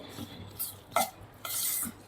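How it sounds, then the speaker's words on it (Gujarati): A spoon scrapes and stirs through a dry poha mixture in a pan for poha bhajiya, a few brief scraping strokes with short pauses between them. "આપણે ચમચીની મદદથી આ રીતે પૌવામાં બધું મિક્સ કરી દઈશું"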